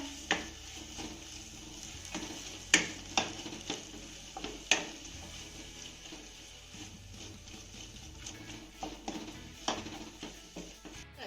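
Green chillies stir-fried in a yogurt masala in a pan, with a soft bubbling sizzle beneath repeated sharp scrapes and clacks of a spoon against the pan, irregularly spaced and fairly quiet.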